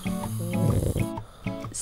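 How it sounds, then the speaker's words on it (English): Snoring from a sleeping person, with several deep, rattling breaths repeating in a steady rhythm, close and fairly loud. "Some people only snore occasionally, depending on the situation."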